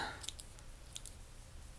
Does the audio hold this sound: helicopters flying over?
no